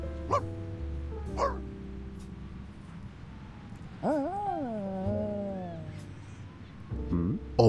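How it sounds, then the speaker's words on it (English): A cartoonish puppy in the video game Reverse 1999 gives short yips and a drawn-out, wavering whine, with a few more yelps near the end, amid speech. "There's a lovely puppy."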